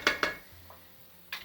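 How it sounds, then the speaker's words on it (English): Masala frying in a pan for a sweet and sour bitter gourd dish, stirred with a utensil: a few sharp metallic clinks and scrapes against the pan, close and brief, with quiet pauses between them. "And now you keep frying the masala for 4 to 5 minutes."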